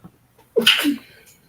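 A single sharp sneeze up close, with a short intake of breath before it and a fading exhale after.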